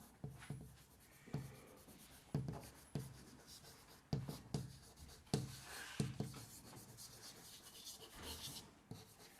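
Chalk or marker writing on a board during a lecture on uniform straining of nanorods: rhythmic scratchy strokes and taps in short bursts, fairly close and moderately loud, with no talking.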